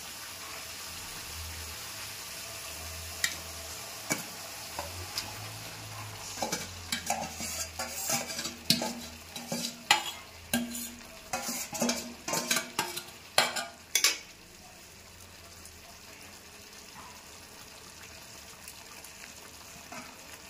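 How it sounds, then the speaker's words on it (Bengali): Masala and onions stir-fry in a pan for Gondhoraj chicken, a soft sizzle under repeated scraping and clattering strokes of a spatula that come in an irregular burst through the middle, then settle back to a quiet, steady fry. "এবার আমি এটা ভালো করে মশলাটা একটু ভেজে নেব।"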